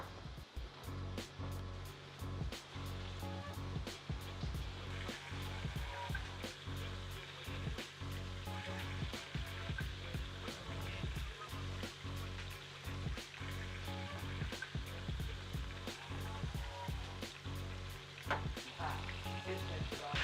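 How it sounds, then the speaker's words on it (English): Steady, dense sizzling and crackling of chicken frying in hot oil in a skillet, loud and close, with occasional clinks and stirring noises throughout. "now that we got our chicken frying, grilling, and frying"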